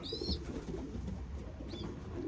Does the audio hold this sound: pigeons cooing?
yes